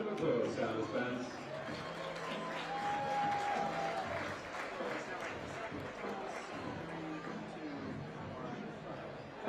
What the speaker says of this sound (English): Give our contestants a round of applause, Santa's fans.